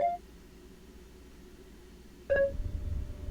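Two short electronic dial tones from a phone in the Simulacra 2 video game, one at the start and a clearer beep about two seconds later, over a low steady hum.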